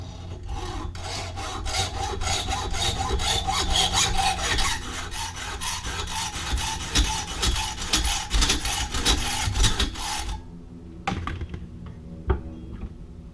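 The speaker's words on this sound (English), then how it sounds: "Here we go, hacksaw." Hacksaw sawing during a brake rotor replacement on a 2003 Ford Ranger, a steady rapid back-and-forth rasping of close, loud strokes for about ten seconds before stopping, followed by a few faint clinks.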